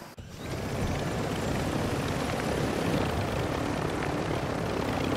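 A helicopter in the video game Warzone 2 roars loud and steady with dense rotor and engine noise after a brief quiet start, filling the whole span with no talking.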